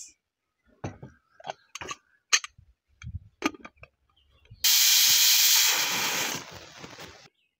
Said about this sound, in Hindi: अब इसको कुकर में ऐड करके दो सीटी लगाएंगे